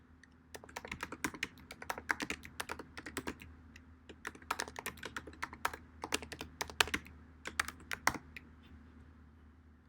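Fingers type a caption on a computer keyboard in quick, irregular bursts of crisp key clicks, close by over a faint steady hum, with short pauses between runs of keystrokes.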